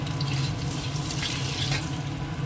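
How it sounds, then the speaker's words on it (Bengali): Water pours steadily into a cooking pan on the stove, a continuous splashing rush that stays close and even throughout, with no talking. "এবার এই জলটা দিয়ে দেবো, এর মধ্যে বড়িটাও দিয়ে দেবো।"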